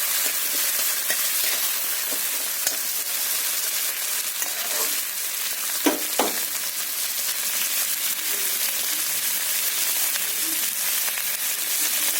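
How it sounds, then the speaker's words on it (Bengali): A mix of tomato, onion, green chili, ginger, garlic and coriander frying in a wok for an egg curry, a constant close sizzle with faint stirring scrapes and a couple of sharp spatula knocks. "একটু ভাজা ভাজা করে নেব বন্ধুরা"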